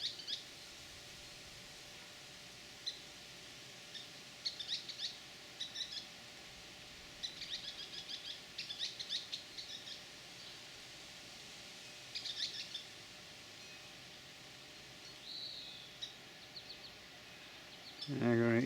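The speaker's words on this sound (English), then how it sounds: "There's two birds here." Two small birds in Wyoming chirp in short, high bursts, faint and scattered over a quiet background, ending in a louder rush of noise.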